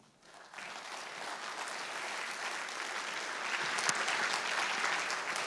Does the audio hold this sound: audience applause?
yes